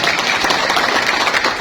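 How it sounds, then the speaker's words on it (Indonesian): Loud, dense applause from a crowd at a professional training event, many hands clapping steadily and close by without pause, with no speech over it. "Tepuk tangan."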